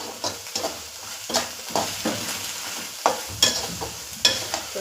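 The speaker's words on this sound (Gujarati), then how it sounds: "અને કલરના ટીપા પાડ્યા બાદ આપણે 2 થી 3 મિનિટ એને ગેસ ઉપર ચોળવવાનો છે" A spoon scrapes and stirs bottle gourd mash, tinted with drops of food colouring, in a pan on a gas stove, making a steady series of scraping strokes over a soft sizzle, without any talking.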